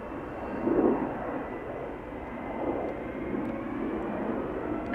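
Distant, soft jet rumble from an Air Canada Boeing 777-200 long range airliner, a low steady wash that swells slightly and fades, with no voices.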